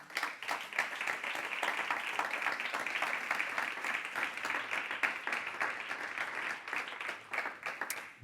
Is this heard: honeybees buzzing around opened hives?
no